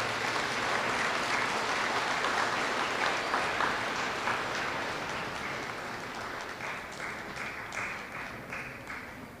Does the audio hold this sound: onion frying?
no